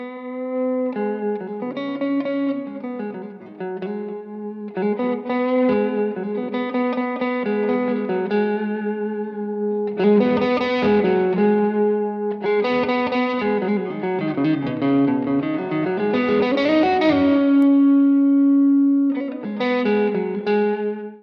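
An electric guitar, a Reverend Jetstream 390 run through two overdrive pedals, with a warm, saturated overdrive tone plays sustained chords and bends in phrases, loud and close, with no voices.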